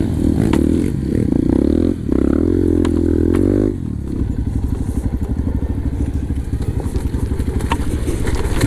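A motorcycle on a practice hill climb revs hard, then thuds and clatters as it tips over, followed by a rapid idling engine chatter; no talk is heard.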